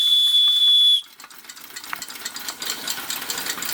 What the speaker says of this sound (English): Some of these I made whistles for, like this one.